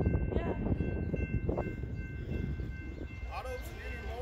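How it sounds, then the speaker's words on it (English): A westbound BNSF autorack freight train passing, a low rumble of rolling cars with a distant horn-like tone, while people talk nearby outdoors. "Westbound BNSF Autorack train. It's an auto train."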